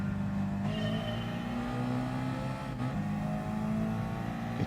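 A race car engine in Gran Turismo Sport drones steadily at high revs, holding a loud, sustained whine throughout with slight shifts in pitch and no talking.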